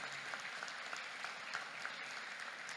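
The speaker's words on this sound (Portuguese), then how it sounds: "Podemos aplaudir aos Jesus?" A church congregation clapping during a service, a steady even patter of many hands that holds for a few seconds, quiet and somewhat distant, with no speech over it.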